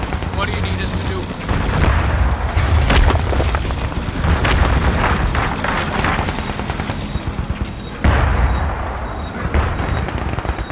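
Artillery explosions in a multiplayer battlefield video game, heavy booms and gunfire-like blasts rolling one after another across a dense, continuous din, with players talking over the noise.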